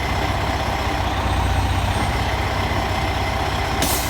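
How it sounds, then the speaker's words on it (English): A truck in first gear during a pretrip brake tug test, its engine running with a loud, steady diesel rumble throughout and a brief hiss near the end. "Put the truck in first gear."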